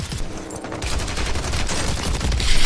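Rapid gunfire bursts from a Warzone match, loud and continuous with dense crackling volleys that grow louder toward the end, without speech.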